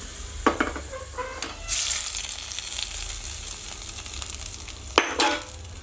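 Sliced onions fry in coconut oil in a pan for a home-style chicken curry, giving a soft steady sizzle with a few louder bursts of stirring near the start and again near the end.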